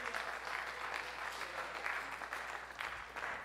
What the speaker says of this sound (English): You can give a little clap if you want.